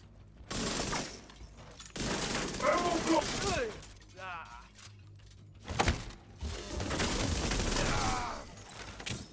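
Rapid SMG bursts in a video game, loud clattering rattles interrupted by pauses, mixed with game effects and a voice talking over parts of it.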